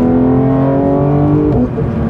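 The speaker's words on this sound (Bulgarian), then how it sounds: "мотора се развърта до 9000 оборота и звучи брутално, дори с серийната изпускателна система" A Porsche 911 GT3 Touring with a naturally aspirated engine and stock exhaust revs loudly up close, a rich harmonic engine note that holds steady before dipping briefly near the end.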